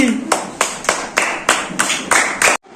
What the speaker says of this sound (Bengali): সুন্দর হাততালি